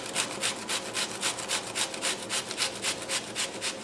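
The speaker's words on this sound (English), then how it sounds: "Hey, remember that onion? Let's grate some more in here." Onion grated by hand straight into a pan for chicken francaise, a quick regular rasping back-and-forth of about a dozen strokes, close and fairly soft with no talk.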